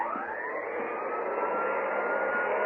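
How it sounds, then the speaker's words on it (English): Vacuum cleaner running steadily in a hotel lobby as a radio drama sound effect, a loud continuous whine and roar holding level throughout with no other sounds. "The clerk was just starting to vacuum."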